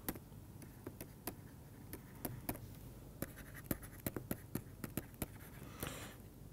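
Writing on a lecture board during a maths lesson on group theory: faint scattered taps and ticks of the pen or chalk, irregular strokes over a quiet background hum.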